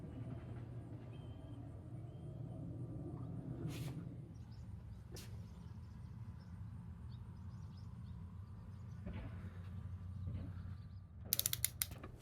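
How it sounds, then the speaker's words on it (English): Nuts being torqued down on a Porsche 944 cylinder head during an engine rebuild: steady mechanical ratcheting and creaking close by, with a couple of sharp metallic clicks toward the end. "The rest of the nuts were torqued down without an issue."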